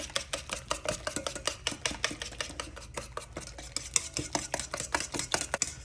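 Eggs whisked briskly into banana bread batter in a bowl, a fast steady run of light clicking, scraping strokes, close and alone without talk.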